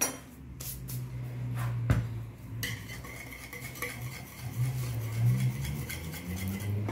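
Spoon or whisk stirring Italian apple cake batter in a bowl, soft scraping and occasional clinks of utensil against the dish, fairly quiet and close with a few sharper taps.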